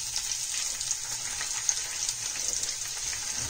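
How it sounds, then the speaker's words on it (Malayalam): Chopped onions sizzling in about four tablespoons of hot oil in a pan for a chicken roast, a steady crackling hiss with small pops, moderately loud and even. "അപ്പൊ എണ്ണ നന്നായിട്ട് ചൂടായതിനു ശേഷം നമുക്ക് ഉള്ളി ഇതിലോട്ട് ഇട്ടുകൊടുക്കാം."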